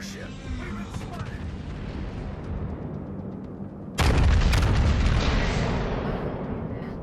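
A Musashi battleship's big guns fire in a naval warfare game: a rumbling battle bed, then one huge booming salvo that rolls and slowly fades.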